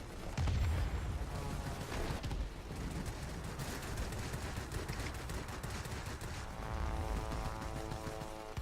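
Aircraft guns in the World of Warplanes video game on a Tier III Focke-Wulf Fw 57 heavy fighter, steady dense rattling gunfire over a continuous engine roar with no talk.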